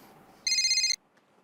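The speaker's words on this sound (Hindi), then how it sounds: "ओ विनोद भाई का फोन है" A telephone rings with one short, bright electronic burst, heard alone in a quiet room.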